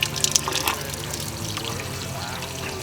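Spring water from the Chalice Well at Glastonbury pours and trickles in a soft, steady flow close by, with a few faint splashy accents.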